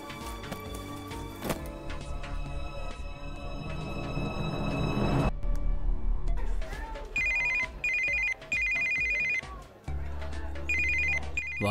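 A mobile phone's ringtone for an incoming call sounds loudly in a thriller scene, a repeating electronic melody in bursts with short gaps, layered over dramatic music at first.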